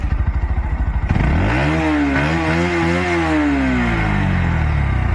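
Bajaj Pulsar NS125 motorcycle engine: a quick series of starter cranks, then the engine catches and runs loud and close, revving up and settling back to idle.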